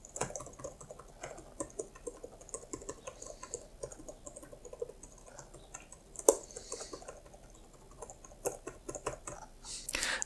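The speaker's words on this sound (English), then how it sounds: "a quick keyboard test, so you can hear how loud the keyboard is. This is just a membrane keyboard on my laptop." Typing on a laptop's built-in membrane keyboard, a steady run of soft, quick clicky keystrokes close to the microphone with a few sharper, louder taps mixed in, no talking.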